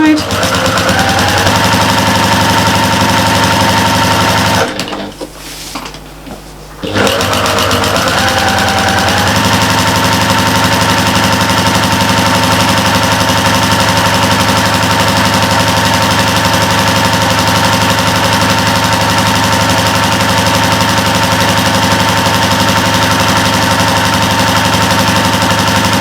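A sewing machine stitches a big shopper bag with a continuous, loud mechanical whirr, stops briefly near the start, then runs on steadily while someone talks.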